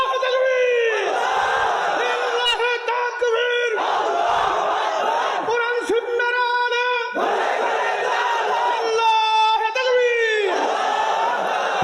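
A large crowd at a Bangla Islamic sermon gathering shouting takbir together in loud, repeated rhythmic chants, each burst answering a lead call, close and powerful.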